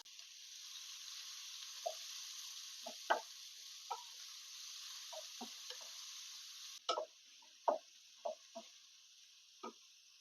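Steady, soft sizzling of chopped onions frying in oil, with occasional clicks and scrapes of a utensil stirring the pan; no voices.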